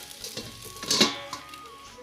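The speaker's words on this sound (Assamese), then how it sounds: "এতিয়া কম জুইত 5 মিনিটমান ভাজিবলৈ ঢাকোন মাৰি এৰি দিম" Pumpkin leaves with salt and turmeric fry in a pan on low heat, a soft continuous sizzle with a light clink of utensil against the pan midway and a few faint clatters.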